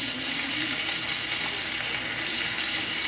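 Mahi mahi fillets sear in a hot skillet over medium-high heat with a loud, steady, close hiss and crackle that holds evenly throughout, no voices.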